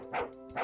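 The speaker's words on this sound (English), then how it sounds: "Oh, the dog is back." In the Dialtown video game, a dog gives two quick, close barks less than half a second apart, short and bright, with no speech.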